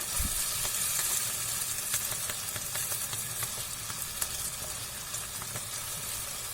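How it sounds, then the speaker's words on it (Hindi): Tomatoes frying in a pan with salt just added, a steady close sizzle and crackle with occasional stirring scrapes throughout, no talk. "टमाटर को भूनने देते हैं"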